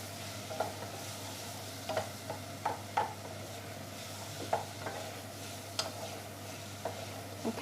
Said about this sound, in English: whilst that's sauteing away there nicely